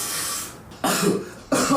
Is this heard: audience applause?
no